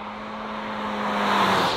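A 2023 Chery Omoda 5 accelerates under throttle at around 140–150 km/h, a steady engine drone climbing gradually in pitch and loudness over wind and road noise.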